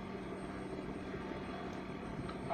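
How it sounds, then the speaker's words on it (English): Steady whirring helicopter rotor drone in the video game Desert Combat, continuous and fairly loud, with a high engine whine above it and no talking. "We're just gonna fly helicopter."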